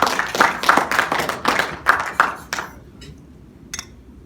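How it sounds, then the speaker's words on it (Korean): An audience at a science and culture forum welcomes the chairman with applause, a dense run of claps that thins out into a few scattered claps and then dies away. "박수로 환영해 주시기 바랍니다"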